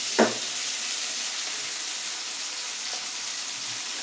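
Chopped onion and green chili fry in hot oil, giving a steady soft sizzle and hiss with a couple of faint clicks and stirring knocks.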